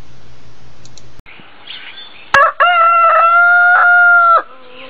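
A rooster crows loudly and close by in one long, sustained call, preceded by softer background noise and a brief sharp click.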